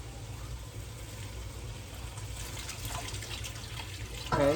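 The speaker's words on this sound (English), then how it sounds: "Okay, so 3 cups of water going into the pot." Three cups of water being poured into a cooking pot for rice, a soft steady splashing stream, close but quiet, ending with a brief clatter.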